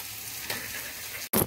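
Salt and turmeric stirred in a frying pan, a low continuous sizzle with faint scraping that cuts out abruptly, then returns as a short, loud hissing burst.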